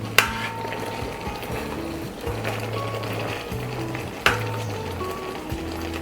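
Mango and prawn chammanthi cooking uncovered in a pan, a steady soft sizzle with occasional clinks and scrapes of stirring and low kitchen hum, close and continuous.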